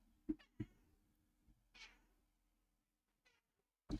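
A pet cat meows outside, wanting to be let in: a few short, fairly close calls spaced apart with quiet gaps between them, and no talking.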